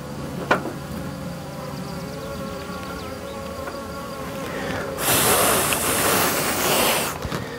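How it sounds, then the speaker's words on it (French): Young honeybees buzz in a steady, close drone with a sharp burst of breath or air noise near the end, no talk heard. "Alors normalement c'est des jeunes abeilles."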